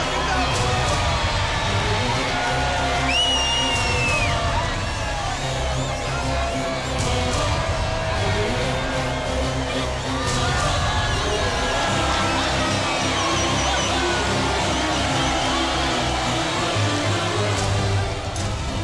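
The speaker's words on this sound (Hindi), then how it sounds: "देखो इस भीड़ को, देखो।" A large crowd around a politician gives off a steady, loud outdoor hubbub of many voices, with louder nearby speech and a brief whistle-like tone rising above the babble.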